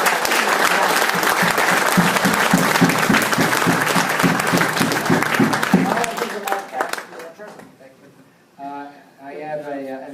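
An audience at a club meeting breaks into a big round of applause, dense sustained clapping for about six seconds that thins out and fades, then a person begins speaking.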